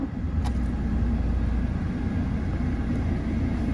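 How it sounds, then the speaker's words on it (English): A 2017 Toyota Hilux SR 4x4 engine idling steadily after starting, a loud continuous low rumble filling the whole stretch with no talk over it. "Give the car a quick start now."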